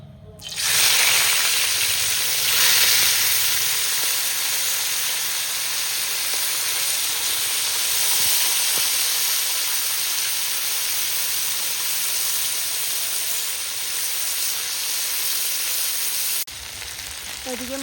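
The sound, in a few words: river fish frying in oil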